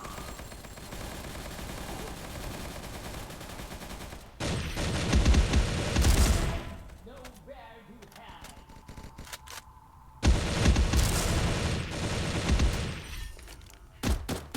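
Gunfire from the mobile shooting game Xshot (Bullet Angle): two loud bursts of rapid automatic shots and impacts over a constant game background, with quieter stretches between them.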